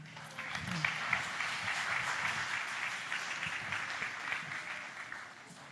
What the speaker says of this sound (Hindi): आपकी भरपूर तालियों में काउंसिल जनरल इमरान अली चौधरी।